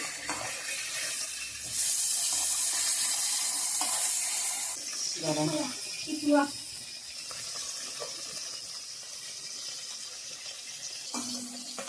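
Fish drops into hot oil in an iron wok and hisses in a loud, steady sizzle for a few seconds, then fades to a softer crackle while a person talks nearby.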